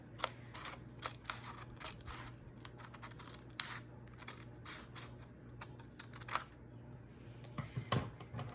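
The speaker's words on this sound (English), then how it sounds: "And I'm gonna cut this extra paper right here off." Scissors snip through paper in a run of short, crisp cuts at an uneven pace, quiet and close, with a faint steady hum underneath.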